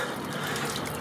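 Steady rushing water pours into the freshwater tank of a Rockwood Geo Pro 19FBS camper, a continuous, even hiss throughout with no talking.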